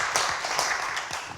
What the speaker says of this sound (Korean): 박종면 회장님과 광주시 지속가능발전협의회에 다시 한번 큰 박수 부탁드리겠습니다